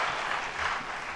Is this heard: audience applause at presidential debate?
yes